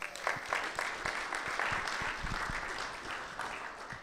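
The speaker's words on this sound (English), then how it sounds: "Let's give them a round of applause." An audience applauds at a West Virginia House of Delegates tour stop in Clarksburg: steady, dense clapping at moderate loudness that holds for about four seconds without fading.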